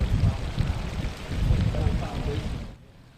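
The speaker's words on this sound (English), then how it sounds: "The sounds of the Secoit Creek being pumped out of basements again." Floodwater from Sauquoit Creek being pumped out of flooded basements in Whitesboro, heard as a steady, loud rushing and gushing wash, continuous until it drops away near the end.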